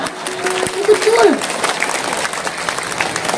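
Audience applause at an Islamic religious gathering (pengajian) in Indramayu, a steady wash of clapping lasting a few seconds, with a voice briefly rising over it near the start.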